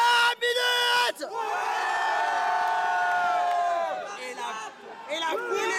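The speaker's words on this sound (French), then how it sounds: "Et la foule est en délire" A festival crowd at Japan Expo 2014 cheers and screams wildly, a loud sustained roar of shouting voices with high whoops, after a couple of short bursts and tailing into renewed yelling.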